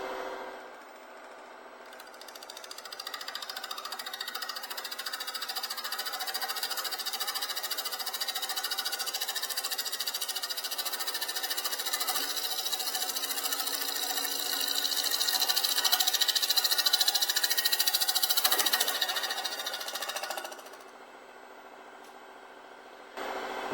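A lathe tool cuts a thin ambrosia maple bowl in one long, continuous pass, producing a steady high, buzzy shearing hiss that swells slightly before stopping abruptly, with no talking.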